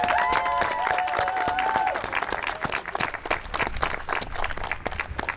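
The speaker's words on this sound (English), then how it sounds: "Big applause." An awards crowd at the Juli Cup 2022 Landart event in Fredericia claps loudly in a dense, continuous round, with a sustained musical tone during the opening seconds before the clapping carries on alone.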